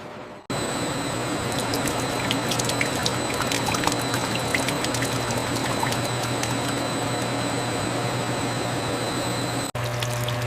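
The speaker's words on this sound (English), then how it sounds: "Gentle buffer tank shows dragon fruit puree circulating, speckles drifting like stars in slow orbit." Dragon fruit puree circulating steadily inside a factory buffer tank, a continuous liquid wash with a low pump-like hum and faint bubbling ticks, loud and unbroken until it cuts off briefly near the end.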